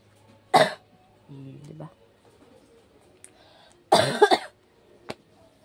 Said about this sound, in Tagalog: Inuubo pa rin ako mga kaiba.